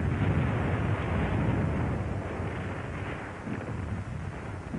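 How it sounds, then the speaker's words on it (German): Artillery shelling of the Sedan fortress in archival war footage, a dense continuous rumble of blasts and roar, loud and muddy, blending into one sustained wall of noise without distinct separate shots. "Die Festung Sedan wird sturmreif geschossen."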